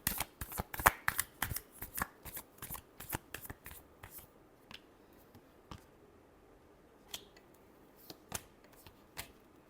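Tarot cards being shuffled by hand, a rapid run of crisp riffling snaps and flicks that slows into scattered single taps, close and fairly quiet with no talk.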